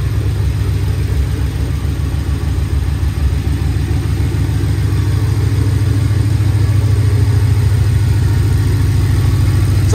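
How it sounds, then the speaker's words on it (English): A BMW 750Li engine idles steadily just after its first start, with a power steering whine from the unbled system. The idle is loud, close and continuous, with no talk over it. "there is going to be some whining because since I haven't reconnected the steering column, I can't bleed the power steering yet"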